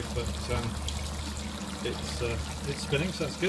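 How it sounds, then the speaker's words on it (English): Water runs through the grain bed of a homebrew beer mash, recirculated by a pump, in a steady pouring rush that continues under a man's speech. "So we've got a good amount of water coming through here."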